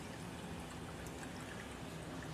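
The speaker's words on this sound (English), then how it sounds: "And so the water's draining." Water drains steadily from an aquaponics tank through a bell siphon, a constant close-up pouring and trickling rush with no breaks.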